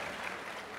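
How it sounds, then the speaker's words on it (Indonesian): Audience applause at a public event, a dense, steady wash of many hands clapping that carries evenly through the short moment with no voices. "harus kasih tepuk tangan yang keras sekali buat mana ini"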